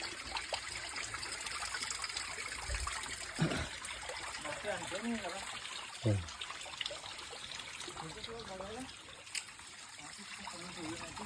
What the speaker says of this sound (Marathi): दगडीतलं पाणी येतं आणि पाणी हा वरतून हा झेलतून येते